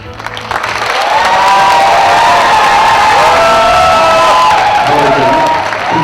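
A crowd at a city welcome ceremony in Incheon's Seo District bursts into loud, sustained applause and cheering, with shouts and whoops, building quickly and holding strong before tapering slightly.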